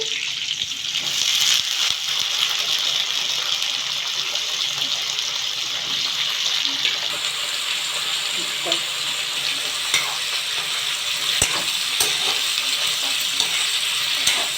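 Steady close sizzle of vegetables frying in a pan, with grated green chilies already browned and broad beans about to go in, plus occasional stirring scrapes and no talk.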